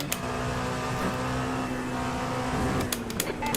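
Race cars in the iRacing sim at the Daytona 24 Hours, one car overtaking a GTE and an LMP2 car, with a steady engine drone and a higher pitch gliding as the cars go by, plus a few sharp clicks near the end.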